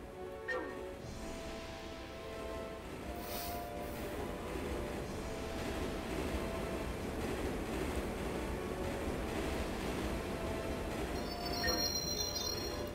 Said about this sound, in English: I'm going on to the train now.